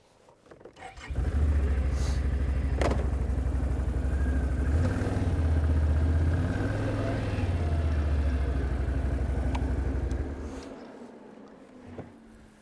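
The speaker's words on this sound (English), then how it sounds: "we're going to let the ATV pull the arch and pull this chain from underneath the log for us" ATV engine revving up and pulling a log arch and chain out from under a log, a loud steady drone that rises and settles for about nine seconds before dying away.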